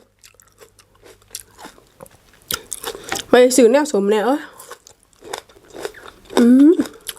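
Crisp bites and wet chewing of crunchy plums dipped in chili salt, several close crunches and mouth sounds broken up by a person talking throughout.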